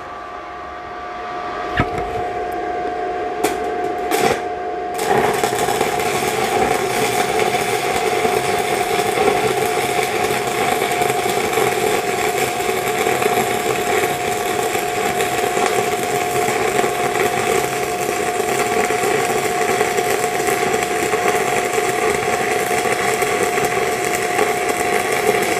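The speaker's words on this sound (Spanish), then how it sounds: "hemos soldado con electrodo" Stick electrode arc welding in the flat position at about 90 amps, a steady loud crackling and sizzling hiss that starts after a few scratchy strikes and runs continuously, with no speech.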